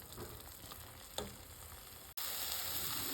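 Masala with Kashmiri red chilli roasting in a pan over medium heat, a quiet continuous sizzle with a soft stir or scrape partway through, then a brighter, louder frying hiss after a brief cut.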